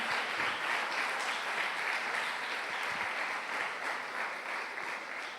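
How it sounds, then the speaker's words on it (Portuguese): Steady, sustained applause from a church congregation during a Quadrangular worship service, dense and even clapping holding at a constant level throughout with no voices over it. "você pode dar uma linda salva de palmas para Jesus"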